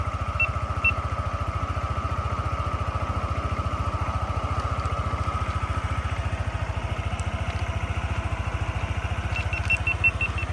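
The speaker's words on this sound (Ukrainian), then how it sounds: "двигунчик гарно працює" Yamaha Majesty 155 scooter engine idling steadily, a close, even low putter with a fast regular pulse and light mechanical clatter, unbroken for the whole stretch.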